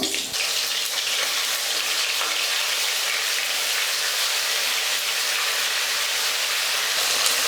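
Cinnamon, cloves, fennel and star anise sizzle in hot oil for chana masala, a dense continuous hiss filling the whole stretch with no voice over it.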